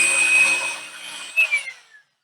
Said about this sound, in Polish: wyżynarkę mamy przygotowaną, sprawdzimy, czy ona się sprawdzi